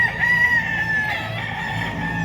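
A single Red Kelso gamecock, an eight-month-old banded rooster, lets out one sustained crow, loud and near, with nothing else over it.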